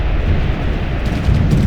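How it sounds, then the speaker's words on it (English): A large explosion in the video game Ground Control 2, a dense, loud low rumble that swells again toward the end, with no voices over it. "Now that's an explosion."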